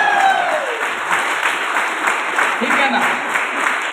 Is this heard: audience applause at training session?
yes